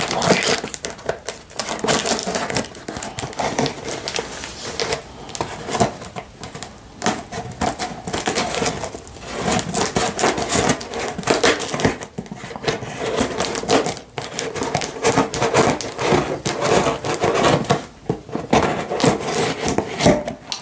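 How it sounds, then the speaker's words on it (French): Close, continuous rasping and scraping as scissors cut through cardboard, with uneven rustling strokes throughout and no voices. "J'ai pris un petit ciseau pour ouvrir le carton."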